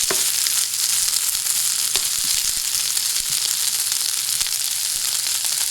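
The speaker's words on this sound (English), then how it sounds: "now we're going to fry them for 10 minutes without the vegetables in the pan" Potatoes frying in oil in a pan as they are stirred around. A loud, dense, continuous sizzle holds throughout, with a few sharper crackles and no speech.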